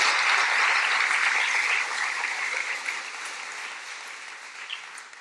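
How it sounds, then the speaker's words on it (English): A lecture audience applauds loudly and steadily, the dense clapping filling the hall before slowly thinning out toward the end. "Definitely worth an applause."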